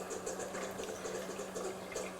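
Water trickles and bubbles steadily through a Catit Flower cat water fountain with a running pump, a soft continuous splashing with a faint low hum, with no talking.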